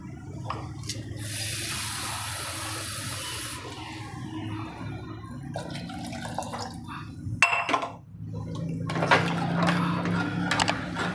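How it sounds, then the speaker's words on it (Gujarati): Water splashes and pours into a pot of thick dal, followed by a steady wet bubbling of the dal simmering nearby, with a few clinks along the way. "હવે આને આપણે ઉકળવા દઈશું થોડુંક પાણી નાખશું"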